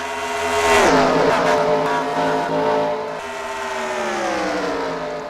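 Race truck engines roar side by side down a back straightaway in a truck series race, loud and close, one engine sweeping past in a Doppler pass before the others hold a sustained drone.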